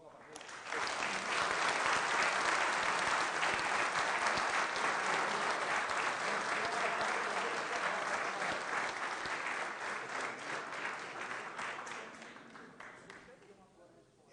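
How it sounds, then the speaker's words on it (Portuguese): Applause from a lecture audience in an auditorium after a talk on the judiciary, a dense, steady clapping that swells in quickly, holds loud for about ten seconds, then slowly thins and fades. "Por isso eu peço uma salva de palmas novamente."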